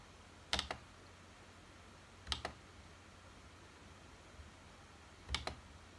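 Computer keyboard keys pressed in three short separate double-click bursts, spaced apart over quiet room hiss, close and faint.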